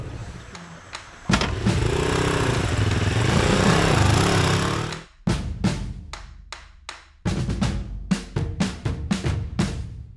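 Engines roar and rev nearby, one sustained drone then a rapid series of sharp revving bursts and pops, like several motorbikes passing on a town street in Peru.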